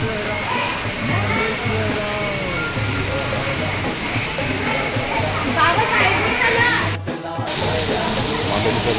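Steady rushing of many mountain waterfalls along a hillside path near a temple, a continuous broad wash of falling water close by, with people talking intermittently over it.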